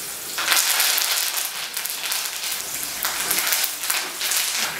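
Green chilies deep frying in hot oil for a crispy fry, a dense steady hiss and crackle of bubbling oil that holds close and loud throughout with no talk.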